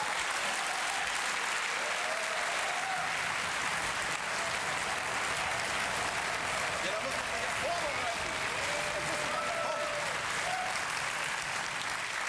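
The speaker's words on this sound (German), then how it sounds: "Was heißt der Applaus?" A studio audience at a German TV satire show applauds loudly and steadily for over twelve seconds, a dense, unbroken wash of clapping with a crowd murmur mixed in.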